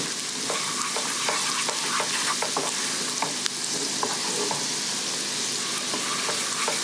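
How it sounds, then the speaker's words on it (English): Food stirred in a sizzling pan with salt and dried parsley gives a continuous frying hiss punctuated by repeated quick scrapes and taps of a utensil, close by and with nobody talking. "Give it a stir."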